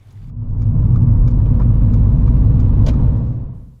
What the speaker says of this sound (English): he speeds up and switches straight into gear 6